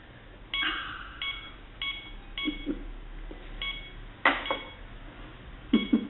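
A series of short electronic telephone keypad tones beeps at irregular intervals over faint background noise, with a few soft clinks near the end.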